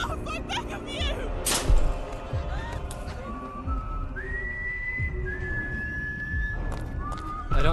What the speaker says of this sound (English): I don't like the whistling.